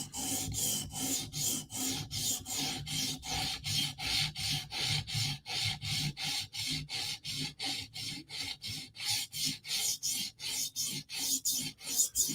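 A knife blade is drawn across the abrasive stone of a TSProf Kadet guided sharpener in steady, even rasping strokes, roughly two or three per second. The strokes are close and continuous with no talking.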